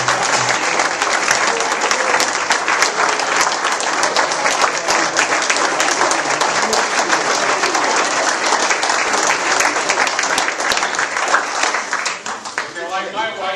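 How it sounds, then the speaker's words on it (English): Sustained, loud applause from a roomful of standing sports officials at a banquet, steady dense clapping throughout that thins slightly near the end. "I would like to have you officials rise and properly clap for the ones that allow us to do what we do"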